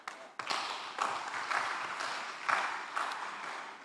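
Applause at a credit union's annual general meeting, with bursts of clapping that swell and fade over several seconds, a moderately loud crowd sound with no talking over it.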